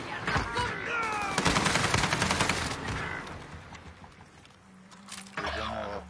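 Rapid bursts of gunfire fill a shooter video game, with dense automatic fire and sharp shots overlapping other game effects and faint voices, tapering off before a final louder burst.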